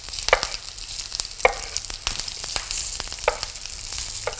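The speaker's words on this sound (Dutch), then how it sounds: "Niet echt bruin maken, maar gewoon even in de pan een beetje aanzweten." Mushrooms sauté gently in a frying pan, a continuous soft sizzle broken by several sharp scraping and stirring clicks from the pan, close up with no talking.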